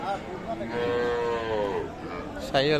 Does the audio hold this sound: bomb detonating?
no